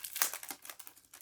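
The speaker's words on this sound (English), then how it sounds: "Let me take it out of the plastic." Plastic wrapping crinkles and crackles as it is peeled off a small Matilda reading journal, a quick run of close, sharp rustles with one loud burst near the start.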